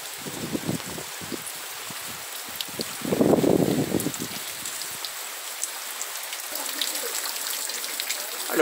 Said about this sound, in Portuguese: Olha como é agradável o barulho da chuva.